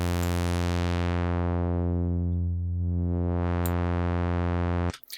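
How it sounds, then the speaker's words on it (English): A sawtooth synth note held through a low-pass filter, a loud buzzy tone that dulls as the filter sweeps closed then brightens again as it reopens, ending with a brief click and a drop to silence. "I will play this sawtooth."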